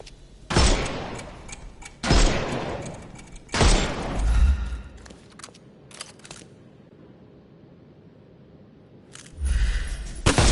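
Gunfire in a Sherlock Holmes video game shoots the armour off enemies, heard as loud, close bursts of rapid shots at irregular intervals, with a quieter stretch of faint ambience in between.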